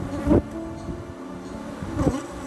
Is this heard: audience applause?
no